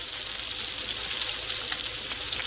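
Salmon fries in brown butter in a pan, giving a steady, close sizzle with crackling spits and pops that carries on without a break.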